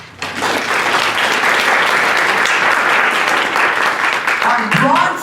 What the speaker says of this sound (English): Please give a great round of applause to our silver sponsor